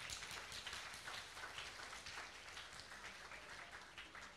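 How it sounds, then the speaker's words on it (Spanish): An audience at a class event in Peru gives a quiet, steady round of clapping that lasts the whole stretch, soft and somewhat distant, with no talk over it. "y palmas para ellos, por favor."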